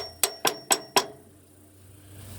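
Four sharp metallic taps of an oversized hammer on a pilot bearing of a 1979 Ford F100, steady rhythm, close by, followed by a quiet ringing decay and low background hum.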